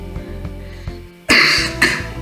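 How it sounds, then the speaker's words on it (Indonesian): Two sharp, loud coughs from a man close by, about half a second apart, break into a calm indoor lecture on management studies. "Batuk ya."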